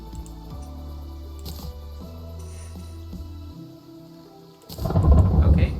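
Rain and a rumble of thunder begin in the video game Terraria, a loud, dense wash of noise that swells suddenly near the end over the steady game music.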